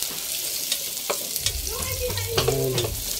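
Garlic sautés in hot oil in a pan while shrimp and mussels in coconut milk are being cooked. A close, steady sizzle runs throughout, with a few stirring scrapes and clinks, and a low rumble joins partway through.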